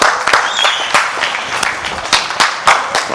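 An audience claps at a comedy show, loud and close, with dense hand claps mixed with some cheering throughout.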